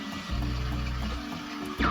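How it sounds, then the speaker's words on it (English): A Gemilai G3006 espresso machine's steam wand hisses steadily as it steams milk in a pitcher, close up and continuous, with a brief surge near the end. "I steamed the milk in about 34 seconds"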